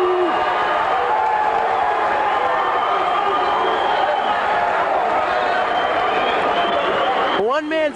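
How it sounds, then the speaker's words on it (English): Crowd at a high school basketball game between Scarsdale and New Rochelle, cheering and booing loudly and continuously, a thick roar of many voices with a commentator talking over it. "Scarsdale is cheering."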